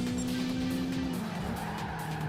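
A race car engine hums steadily in Gran Turismo, with tire squeal and a slight dip in engine pitch midway.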